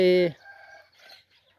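Chickens on a farm raised to forage freely, heard with a loud close cluck or crow burst followed by softer fainter calls in the background.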